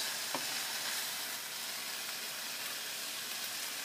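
A pork chop with onions and garlic frying in a pan, a steady, close sizzle with soft crackling and hiss throughout, with no talking.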